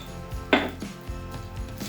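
Utensil stirring coconut curry in a metal pan gives a few clinking, scraping knocks, one sharper clank standing out, close and moderately loud with no talk.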